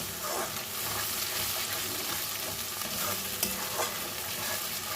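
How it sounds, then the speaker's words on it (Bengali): Spice gravy of ginger, onion, chilli, tomato and garlic paste frying in a pan, a continuous low sizzle with soft scraping stirs at intervals, no talking. "এখন এখানে মশলার গ্রেভিটা করছি।"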